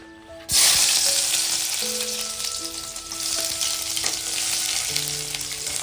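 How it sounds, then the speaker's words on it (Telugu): Garlic sizzles steadily in a hot pan for a chicken majestic dish, the broadband hiss jumping up suddenly at the start as it hits the oil and staying loud, with faint stirring scrapes and small clinks on top. "సో ఏదైనా కానీ లైట్గా ఫ్రై చేసుకోవాలి, ఎక్కువ ఫ్రై చేసుకోవద్దు"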